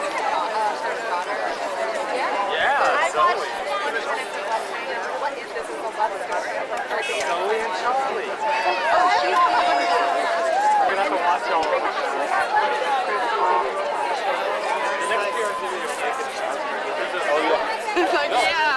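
Dense crowd chatter at a 2004 Campaign for Access to Emergency Contraception rally, many overlapping voices forming a steady, fairly loud babble throughout.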